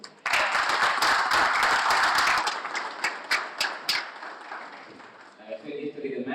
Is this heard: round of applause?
yes